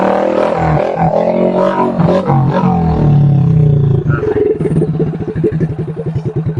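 A motorcycle engine rumbles loudly nearby, its revs rising and falling before settling into a rapid, pulsing idle.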